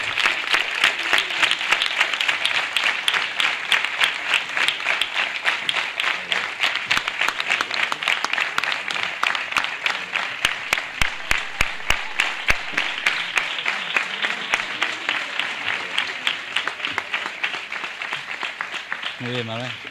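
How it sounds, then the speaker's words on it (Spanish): Sustained audience applause at a band's sixth-anniversary concert in Antequera, dense rhythmic clapping from a large crowd that runs throughout, fairly loud and steady. "Un aplauso para ellos."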